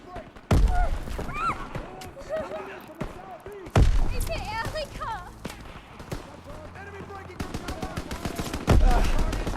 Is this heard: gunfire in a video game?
yes